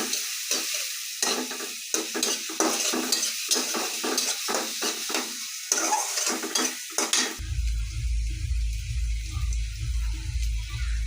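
Onions frying in a pan for a chicken bhuna khichuri: a steady, loud sizzle with clattering stirring strokes throughout. The sizzle cuts off abruptly near the end and gives way to a low, steady hum.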